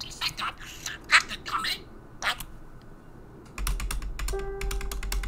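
Computer keyboard typing in clustered bursts of quick clicks, near and crisp, with quiet pauses between, followed by a steadier background hum and further light key taps.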